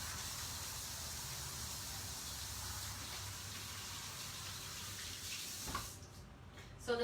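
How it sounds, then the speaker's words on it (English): Hands washed under a running kitchen tap, a faint steady hiss of water that shifts to louder splashing near the end. "So I'm gonna wash my hands"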